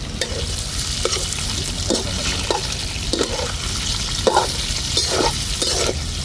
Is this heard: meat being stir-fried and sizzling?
yes